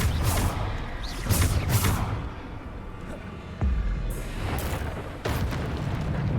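Bombarda spell explosions in Hogwarts Legacy boom in several separate heavy blasts, each with a rumbling tail, amid game combat noise.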